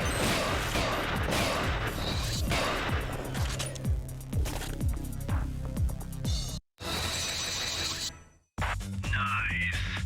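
Shotgun gunfire in the arcade shooter Ghost Squad, a rapid run of loud blasts and crashing impacts, with clattering mechanical noise and brief silent gaps breaking up the action.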